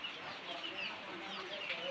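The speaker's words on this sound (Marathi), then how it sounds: "हे बघा, कोंबडी पण वरती चढली." A chicken clucks in short, scattered calls at close range, over a steady hiss of falling rain on a rural farmstead.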